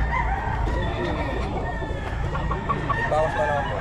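Hens clucking among a flock of chickens for sale, a rooster crowing now and then, steady and fairly close over a busy, noisy background with faint voices.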